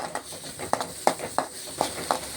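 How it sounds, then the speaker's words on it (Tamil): Roughly chopped onions sauté in a pan while a utensil scrapes and stirs them in quick rhythmic strokes, about six distinct scrapes over a soft background sizzle. "கொஞ்சம் நல்லா வதக்கிக்கலாம்."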